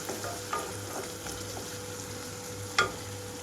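Tomatoes frying in a pan for a gongura curry give a soft, steady sizzle with a few brief clinks or stirs, one sharper knock near the end, and no talk.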